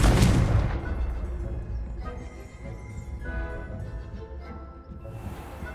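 A Confringo fire spell blasts in Hogwarts Legacy, opening with a loud booming burst that fades into a rumbling, crackling tail over a low game backdrop, with a quieter second swell near the end.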